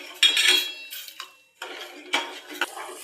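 Milk for watermelon ice cream is stirred in a pot over a low gas flame, as a metal spoon scrapes and clinks against the pan in several close, uneven strokes with brief pauses.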